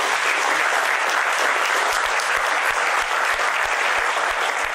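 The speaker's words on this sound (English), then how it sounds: "so give him a round of applause." An audience at an MDI Gurgaon business school presentation applauds for Sanjay, a dense, steady wash of many hands clapping close and loud, with a faint rhythmic low thump running underneath.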